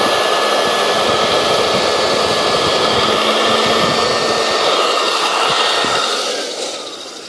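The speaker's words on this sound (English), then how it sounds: "Turn on the machine and glide the plate under the fabric." A New-Tech 4-inch electric rotary fabric cutter whirs in a loud, steady high-pitched hum as it slices through fabric, holding constant before tapering slightly at the end.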